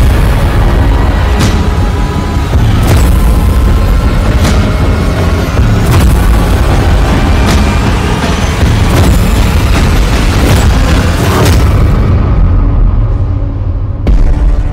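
Pager blasts in Lebanon come through as loud, dense rumbling with repeated heavy booming impacts that stay continuous and close.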